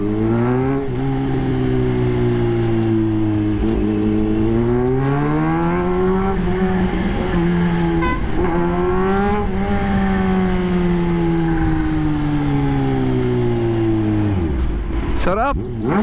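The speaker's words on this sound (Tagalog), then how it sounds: "Lakas lang talaga ng exhaust." A Kawasaki ZH2 motorcycle, swapped in place of a Vespa, roars loudly and steadily through its exhaust with a rising and falling rev, dropping off sharply near the end, close up with a voice at times.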